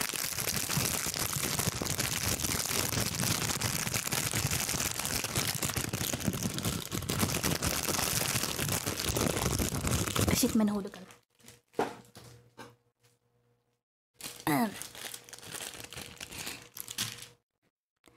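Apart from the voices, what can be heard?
opening plastic packaging of cotton buds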